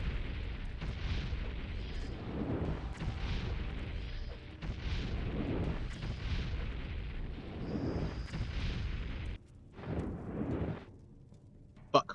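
Fire bolt spells cast in Morrowind burst out as a series of heavy, muffled booms, several blasts in a row at moderate loudness, with a brief sharper pop at the end.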